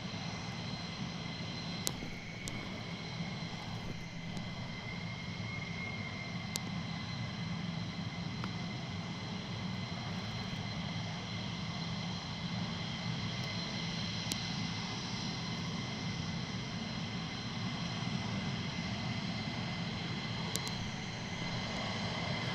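F-15 fighter jets flying at RAF Lakenheath, a steady broad jet roar held at a constant level throughout, distant and continuous with no voices.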